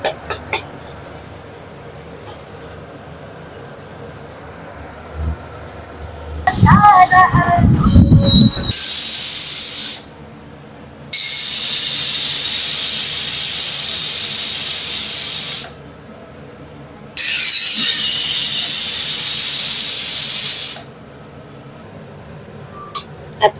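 A pressure cooker of mutton lal jhol letting off steam: after a short clatter, two long, loud, hissing whistle bursts of about five seconds each rise abruptly and cut off, separated by quieter gaps.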